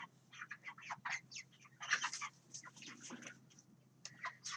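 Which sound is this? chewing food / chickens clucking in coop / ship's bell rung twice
chickens clucking in coop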